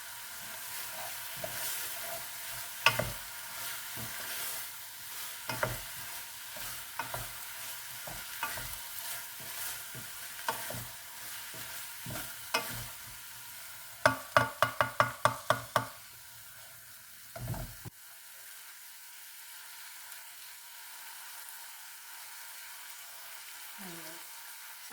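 Toasted seeds are stirred into a sizzling pan for a burger with red onion chutney and feta, bringing steady frying crackle and repeated close knocks and scrapes of the utensil. A quick run of taps follows, then near silence.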